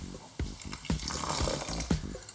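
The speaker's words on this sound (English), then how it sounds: "Probably do a bit more water." Water pours from a tap into a cooking pot while Nasi Rawon is being made, a close splashing flow with a few heavier gushes and no talk.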